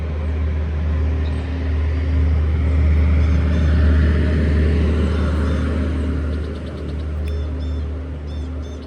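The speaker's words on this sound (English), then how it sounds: "let me wait for this car to pass" A car passing by on a road gives a loud, steady engine rumble and tire roar that swells and slowly fades, with faint birdsong chirping near the end.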